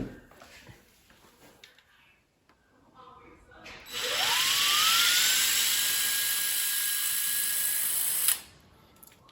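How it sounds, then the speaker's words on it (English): A cordless drill with a 3/32 bit bores a pilot hole into a wooden door jamb, its motor whining loudly and rising steadily in pitch for about four seconds before stopping, after quiet handling noises and faint talk. "Make sure you drill a pilot hole or else you'll split the jam."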